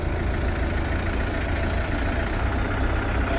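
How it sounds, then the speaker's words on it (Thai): A truck engine idles steadily with a low, even rumble and no revving, running alone with no talk. "ขับแบบเดินเบาเลยครับ"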